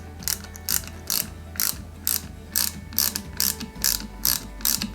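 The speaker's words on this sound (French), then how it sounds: "Et on va y mettre une vis" Screw being driven into the seat rails of a Peugeot 205 GTI 1.9 scale model kit, a dry mechanical clicking in regular short bursts, close and steady like a ratcheting driver.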